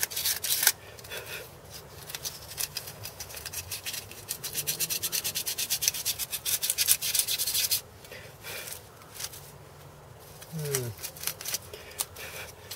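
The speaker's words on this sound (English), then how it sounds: "So I'm just using this bit of sandpaper." Sandpaper rubbing grime off a car wheel bearing housing, a close, steady scratchy scraping in continuous strokes that pauses briefly and then resumes in shorter bursts.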